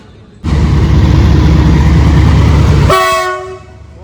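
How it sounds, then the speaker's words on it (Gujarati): A goods train roars past at close range, loud and steady, then its horn sounds a strong, sustained blast whose tone lingers and fades as the rumble dies away. "અવાજ તો જો ભાઈ પાવાનો"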